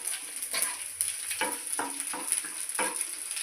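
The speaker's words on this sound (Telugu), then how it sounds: "తర్వాత పోపు దినుసులన్నీ వేసేసుకొని సిమ్లో పెట్టుకోవాలి. సిమ్లో పెట్టేసుకొని పోపు బాగా వేసేసుకోవాలి." Spices for a dal tempering frying in hot oil, a faint crackling sizzle with repeated sharp pops and spits at irregular intervals, no voices.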